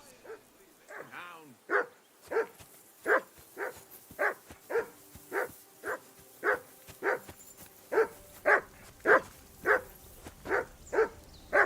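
A dog in Kingdom Come: Deliverance II barks in a steady run of about twenty loud, evenly spaced woofs, with a low voice murmuring briefly near the start.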